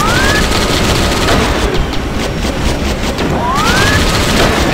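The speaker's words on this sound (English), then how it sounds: "I got the Gatling gun, so that's always awesome" Sustained, loud Gatling gun fire in the Terminator Genisys video game, a continuous roaring stream of rapid shots with rising whine sweeps near the start and end.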